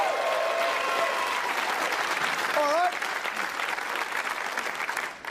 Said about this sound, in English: Give Tony a round of applause